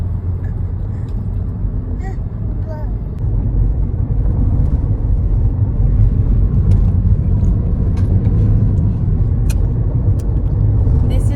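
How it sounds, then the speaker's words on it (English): A car drives along a road in Langkawi, with a steady, loud low engine and road rumble filling the whole stretch and growing slightly heavier partway through. "Our last drive in Langkawi for this time at least."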